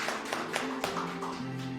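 A church congregation claps together during a service, a handful of light, evenly spaced claps under sustained musical tones.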